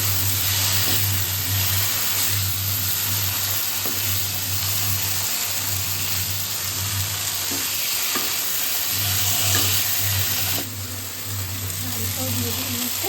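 Chicken and fried potatoes stir-fried in a pan, a loud steady sizzle running throughout with faint stirring scrapes and a low background hum.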